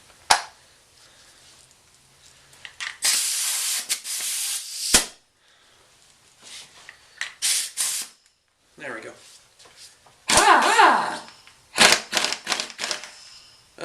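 A Harbor Freight Central Pneumatic Earthquake pneumatic impact wrench fires in several short, loud, rattling bursts separated by quiet gaps, close to the microphone, with a few clicks between bursts.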